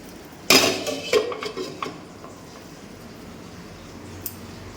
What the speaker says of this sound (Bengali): এবার ঢাকাটা দিয়ে দিই